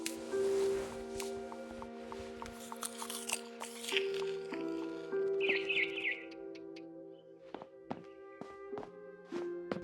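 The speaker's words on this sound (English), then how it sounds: "Then I heard chirping outside my window." A barn swallow chirps outside a window in the video game What Remains of Edith Finch, a short cluster of faint high tweets over sustained tonal game music and soft scattered clicks.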